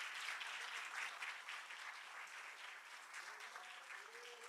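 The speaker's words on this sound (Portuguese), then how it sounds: "Você pode aplaudir o Senhor Jesus?" A church congregation applauds during a sermon, a steady, even roar of many hands clapping that sounds faint and distant throughout.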